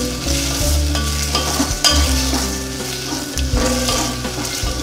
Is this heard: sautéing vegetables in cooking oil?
yes